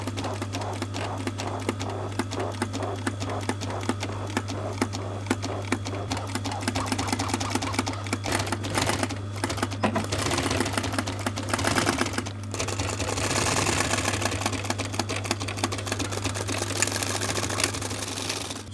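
Sewing machine stitching VW Transporter T5 Caravelle seat covers, a rapid mechanical chatter of needle strokes with a constant low motor hum, running loud and close in bursts with brief pauses.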